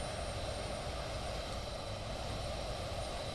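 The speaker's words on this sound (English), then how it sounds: "Oh, I hear the first plane coming in." A simulated airplane in a flight simulator game approaches a runway on an island airfield, its engine drone a steady, low, fairly quiet hum that stays constant throughout, with no talk.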